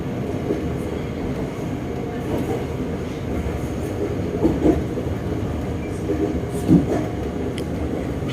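Special express train no. 25 hauled through the rail yard near Bangkok's central station, a steady rumbling roll with a few brief wheel squeals and clanks, heard from a distance beside the Red Line depot.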